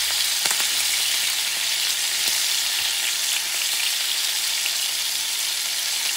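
A bison heart sears in a hot pan like a steak, giving a continuous, even, close sizzle throughout with a couple of faint ticks and no voices.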